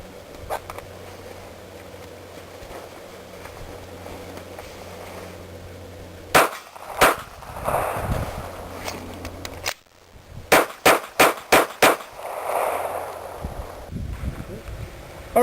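Pistol shots fired during a practical shooting exercise, a few isolated reports followed by a rapid string of sharp, loud cracks with short gaps, some voice and ambient noise between them.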